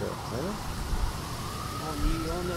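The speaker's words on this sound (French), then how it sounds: "c'est effrayant comment ça se fait des sirènes" Faint, distant sirens wail and glide in pitch beneath people talking nearby.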